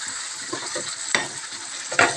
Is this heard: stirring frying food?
yes